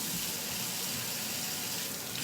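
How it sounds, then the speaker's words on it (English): Tap water running over apples being rinsed in a kitchen sink, a steady close broadband splashing rush that stays even throughout with no talking. "I'm just going to rinse these off."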